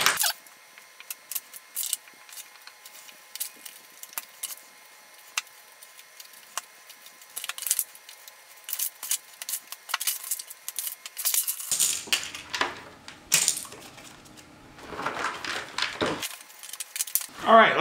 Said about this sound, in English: Let me sort some of these cards out here.